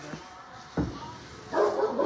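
Dogs on a farm give a couple of short barks and yips close by, separated by a brief pause, with faint whimpering between them.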